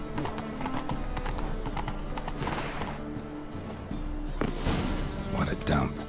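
Roach the horse galloping in The Witcher 3, quick hoofbeats under game music with a whinny and a voice talking over part of it.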